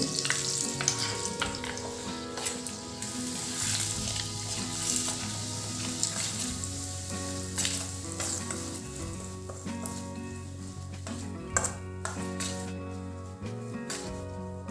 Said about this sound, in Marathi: हिंग असं कडकडीत तेल आपण आता मोहरीच्या डाळीवर टाकून देऊ